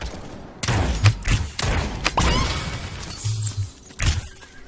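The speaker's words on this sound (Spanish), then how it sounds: "Mira, le sentó un disparo," Gunfire in the video game Realm Royale, rapid bursts and thumping shots over a busy, noisy game mix, with faint voices in the background.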